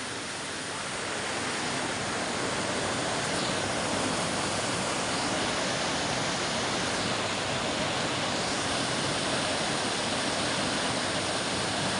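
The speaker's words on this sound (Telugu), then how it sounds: "వాటర్ ఫ్లో చూశారు కదా" Water in Krumlov, Czech Republic, flowing in a constant broad rush like a small weir or wooden water wheel race, loud and steady with no breaks or other sounds.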